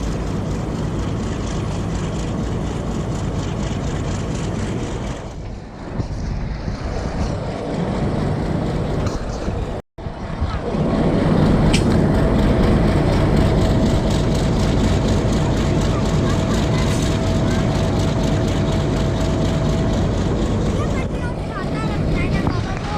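Train rolling along a flood-soaked track in Pakistan, nearing Nawabshah's outer signal, with a steady continuous rumble and hiss of running gear and wind throughout, a brief dropout midway, and no voices.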